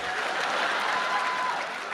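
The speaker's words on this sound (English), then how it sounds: "Now the old people are applauding." An audience claps together, a dense burst of applause spread across a room, moderately loud and fairly even for a couple of seconds.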